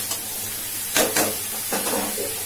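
Marinated fish fry in hot oil in a home kitchen, with a steady sizzling hiss and a couple of louder bursts of spattering, close and with no voices.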